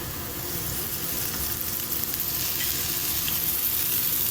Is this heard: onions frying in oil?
yes